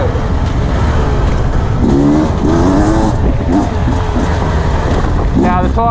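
A 2022 Beta 300 RR motorcycle's 300 engine under way while riding on Maxxis tyres, roaring loud and close throughout with rising revs and pitch swings midway and again near the end.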